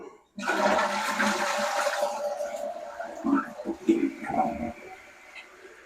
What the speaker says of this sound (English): Once you get your tank filled up, you want to flush it to check it, make sure it don't leak.